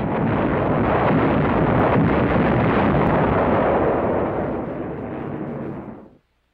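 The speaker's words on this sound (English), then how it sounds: "naval shelling, and ton after ton of bombs" Dense, heavy rumble of WWII naval shelling and bombing, a continuous roaring barrage of explosions that stays loud for several seconds, then fades and cuts off abruptly.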